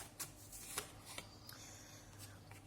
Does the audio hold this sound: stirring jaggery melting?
no